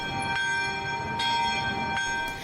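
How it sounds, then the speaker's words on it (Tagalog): A cathedral bell rings with slow, evenly spaced strokes, each ringing tone lingering and overlapping the next in a steady resonant hum, at a Mass for Pope Francis in Zamboanga City. "Pinatunog din doon ang kampana."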